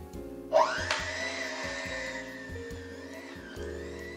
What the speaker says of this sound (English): now we're gonna whisk it together